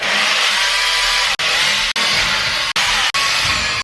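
A power drill with a 3mm bit whirs steadily at high speed drilling pilot holes in timber, broken by a few brief pauses as the trigger is released, close up.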